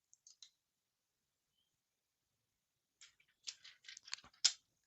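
Protective film peels off a new SUGON 8650 hot air station in short crackly tearing bursts, faint at first and then a busier crinkling run after a pause.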